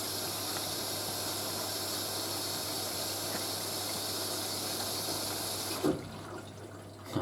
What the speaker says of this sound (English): You see the water coming in there.